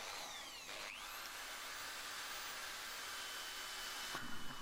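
A power drill whines at high pitch, cutting out sharply near the start and again near the end as the bit pushes through metal.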